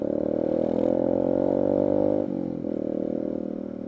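A motorcycle with a loud racing exhaust drones at a steady low rumble nearby, then its pitch drops and settles as the engine eases off.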